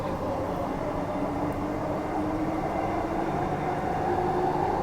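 Train pulling away from Bayswater station on a suburban rail line, a steady close rolling rumble with faint tonal whine that builds slightly toward the end, heard from inside the carriage.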